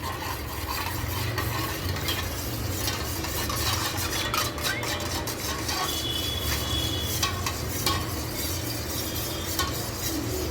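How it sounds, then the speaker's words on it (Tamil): A utensil stirs salt into warm water in a pot in a continuous swirling, scraping rhythm, with occasional light clinks and a steady low hum behind. "உப்பு சேர்த்து நல்லா கலந்து விட்டுக்குவோம்."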